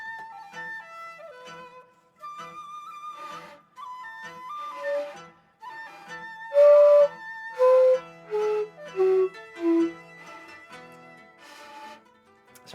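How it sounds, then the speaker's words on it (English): A breathy shakuhachi bamboo flute plays a slow melody of sustained notes, ending with several loud, bright high tones played one after another. "you can get really bright tones with the shakuhachi"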